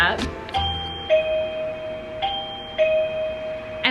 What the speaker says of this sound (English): New doorbell set up